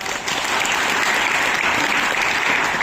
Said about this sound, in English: Can we get a round of applause, guys?